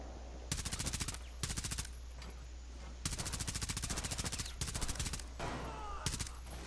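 Several bursts of rapid automatic gunfire from a gun in the video game Rainbow Six Siege rattle out in quick succession, each lasting under a second, loud and close with brief gaps between them.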